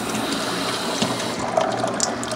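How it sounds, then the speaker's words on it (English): Water poured into a Della portable washing machine, a steady close splashing and gurgling wash of liquid with small clinks, no voices. "I'm going to pour more water in on top"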